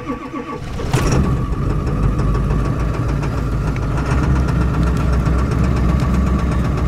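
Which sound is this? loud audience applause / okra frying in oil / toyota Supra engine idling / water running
toyota Supra engine idling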